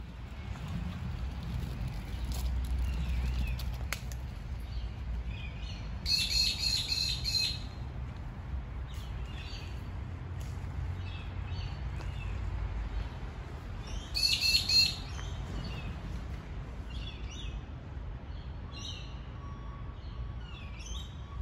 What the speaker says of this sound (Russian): Ага, это птица.